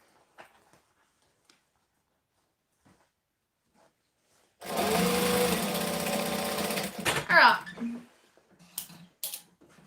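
A sewing machine stitches a small Mini Denver bag in a burst of rapid whirring that begins after a quiet stretch and runs for a few seconds before stopping, followed by faint handling clicks.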